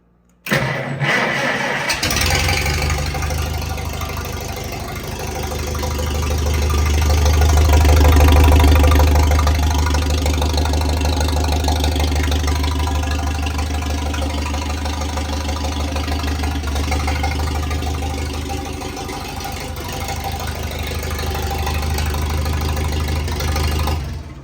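The engine of a 1948 International I-4 tractor cranks, catches and settles into a steady, loud, low throbbing run that swells briefly before holding an even idle.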